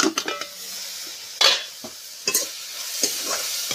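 Luri saag greens fry in a pan during village cooking, with a soft background sizzle broken by a few sharp scraping stirs of the spoon against the pan.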